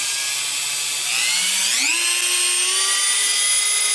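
A Dremel rotary tool set to 5,000 RPM gives a thin, steady motor whine that climbs in pitch as it spins up, then holds a higher, even tone, close and alone.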